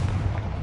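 A Confringo fire spell cast in Hogwarts Legacy, heard as a short muffled boom with a low rumbling body, close and fairly loud, lasting well under a second with no talk over it.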